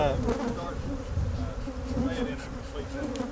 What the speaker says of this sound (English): This is an ideal day to be shaking bees.